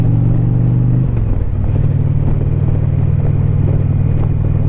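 A motorcycle riding along a road in Savannah on a Saturday afternoon, its engine droning steadily and loudly throughout, with a brief shift in pitch about a second in, like a gear change, then a continuous cruising rumble.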